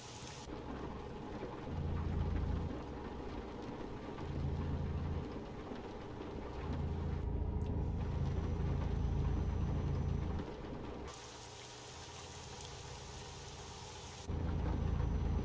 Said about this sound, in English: I hear that bloody rain through my bloody headphones.